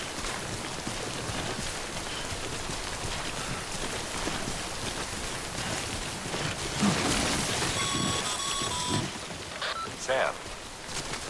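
Steady rain pours down in the video game Death Stranding, a dense, continuous wash of drops, with brief electronic tones and a voice surfacing partway through.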